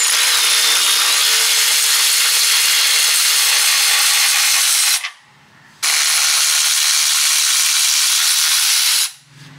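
A 19 mm socket tool loosens the lower arm bolts on a car, giving a loud, steady whirring hiss that cuts off briefly, then runs again before stopping.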